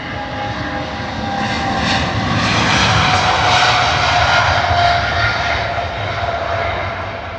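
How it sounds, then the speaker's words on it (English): A heavy British Airways Boeing 777 at full takeoff thrust rolling down runway 27R at London Heathrow, a loud, continuous jet engine roar that swells and holds steady. "Throttles in max there for the takeoff. Nice and heavy again, the British Airways 777."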